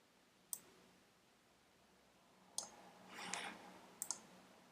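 Sharp mouse clicks on a computer, one near the start, one mid-clip and a quick double click near the end, over faint room hiss and a brief soft rustle.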